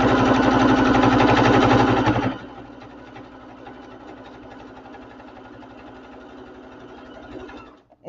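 A sewing machine back-stitches along a zipper, whirring loudly and rapidly for about two seconds before dropping to a softer, slower mechanical hum that continues to the end, with no speech.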